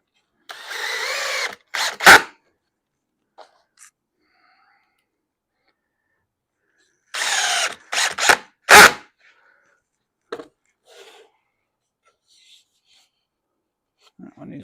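Power screwdriver driving 1-inch wood screws into a wooden dresser case, with two close, loud whirring bursts separated by a long pause and a few faint handling knocks between.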